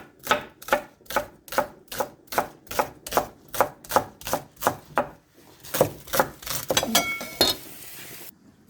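Steady rhythmic chopping of chives with a knife on a cutting board, about a dozen evenly spaced crisp strokes close by, followed by looser clinks and scraping of kitchen utensils.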